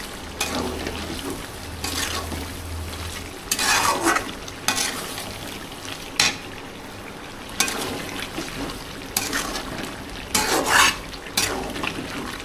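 Potatoes and chicken sauté in a pan with sizzling, broken by repeated scraping bursts of a spoon stirring, close and fairly loud.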